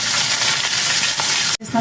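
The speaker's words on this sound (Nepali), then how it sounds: "म चाहिँ 2टा प्याज हालिदिन्छु यसमा" Two medium onions dropped into hot oil with a bay leaf, frying with a loud, steady sizzle and hiss that stops abruptly near the end and then returns.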